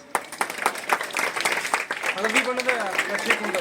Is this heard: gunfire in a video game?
no